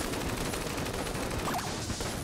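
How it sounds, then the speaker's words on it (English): Dense, continuous volleys of mixed bullet fire and chiptune-style effects from the Enter the Gungeon video game during a boss fight, a steady loud barrage with no pauses and no talking. "We're spitting out a lot of different types of bullets at him."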